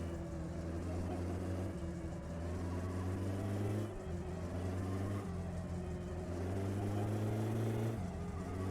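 Car engine in the game My Summer Car pulling through the gears, a loud steady drone whose pitch climbs, drops at each shift, and climbs again in repeated cycles.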